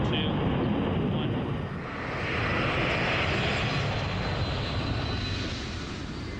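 The turbofan engines of a Lockheed C-5 roar at full takeoff thrust, a loud, continuous, close blast that dips briefly and then surges again.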